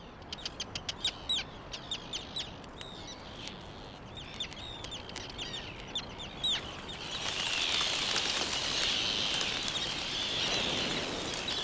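Seabirds in a colony on a volcanic island call in a rapid series of sharp, clucking cries at the start, then fade into a steady wash of wind or surf noise; moderately distant, no speech.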